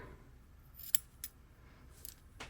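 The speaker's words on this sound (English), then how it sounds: "give those yarn tails a trim" A few crisp scissor snips trimming yarn tails on a crocheted chunky granny stitch cardigan, three or four short cuts spaced about a second apart in a quiet room, close and fairly soft.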